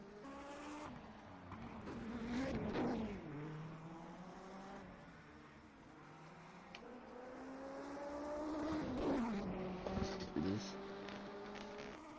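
A 1988 Tyrrell Formula One car screams through a racing game session at the 1988 Mexican Grand Prix qualifying, its high-revving engine rising and dropping through gear shifts over a sustained mid-level drone, with a commentator talking throughout.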